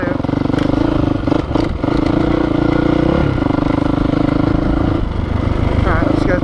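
A Honda CRF450R dirt bike rides a trail, its engine loud and close with a constant buzzing rasp that drops briefly between revs, alongside clattering from the bike.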